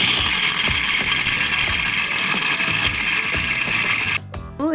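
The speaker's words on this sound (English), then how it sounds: "So in order to make kaju katli, I grind cashew nuts." An electric grinder whirs loudly and steadily as it grinds chilled cashew nuts for kaju katli, then cuts off abruptly near the end and spins down.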